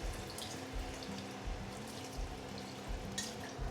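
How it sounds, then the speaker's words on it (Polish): White wine is poured into a pan of mussels cooking with fresh chili, a soft liquid splash over a low bubbling sizzle, quiet and close, with no voices. "Dodajemy białego wina."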